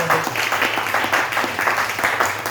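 A church congregation applauding together at a worship service, a dense, steady patter of many hands clapping at close range throughout the short stretch.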